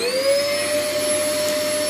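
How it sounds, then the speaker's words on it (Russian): A household vacuum cleaner runs at close range with a loud, steady whirring roar. The motor whine rises slightly as it spins up and then holds at an even pitch, with no talking over it. "Просто, смотрите, включаете пылесос."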